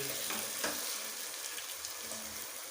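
Cauliflower frying in a pan for aloo gobi, a steady close sizzle running evenly throughout with a few brief louder crackles and stirring scrapes, no voices.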